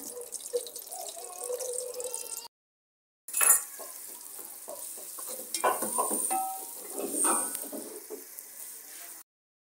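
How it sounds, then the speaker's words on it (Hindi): Garam masala sizzles in hot oil at the start of a homemade chicken and liver curry, a steady close frying hiss with stirring scrapes. A short gap of silence breaks it, then the sizzle returns louder with clinks from the pan. "ऑयल गर्म हो गया, मैंने डाल दिया इसमें गरम मसाला"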